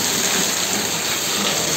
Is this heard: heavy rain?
yes